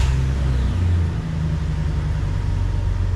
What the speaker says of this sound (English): The Jeep's been making a weird noise when I start it